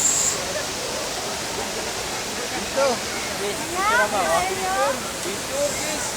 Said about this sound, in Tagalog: Ito na ang falls!